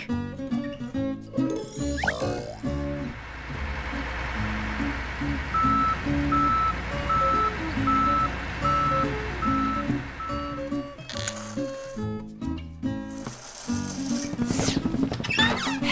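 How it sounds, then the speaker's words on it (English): A garbage truck's reversing alarm beeps in an even, repeated rhythm over a loud, churning engine and mechanical clatter, with other short noises before and after. "Garbage truck."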